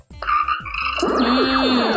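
A cartoon frog croaks loudly and continuously in a children's school educational game, with dense, warbling calls filling the whole two seconds close up and no talk over them.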